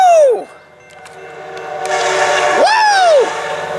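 Train horn on a San Diego County rail line, sounding two loud blasts, a short one at the start and a longer one near the end, over rumbling train noise, with people reacting nearby.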